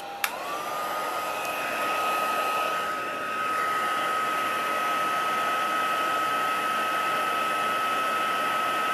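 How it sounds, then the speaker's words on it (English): A heat tool blows hot air onto a handmade card with masking techniques, a steady whirring rush with a fixed high whine that holds unbroken from start to finish, close and loud. "So now we bring back in our heat tool"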